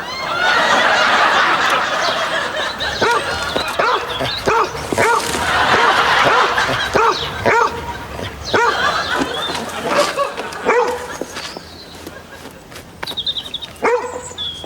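A dog barks repeatedly in a comedy sitcom scene, with loud, close woofs and yips in irregular bursts, mixed with audience laughter and chuckles, then fading quieter toward the end.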